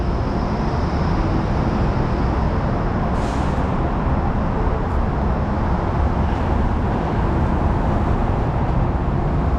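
Steady roar of traffic on a downtown Toronto street, with cars and larger vehicles rolling past one after another at close to moderate range, continuous and loud with no talking.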